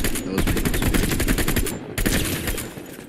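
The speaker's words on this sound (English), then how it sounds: "there's a glitch where it sounds like my gun is shooting" Rapid automatic gunfire from a Fortnite weapon affected by a sound glitch, a dense rattling burst of shots with a brief break partway through, loud and harsh with no clear speech.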